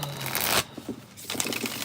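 A deck of playing cards is shuffled up close, a brief riffling burst followed by softer scattered card rustles and taps.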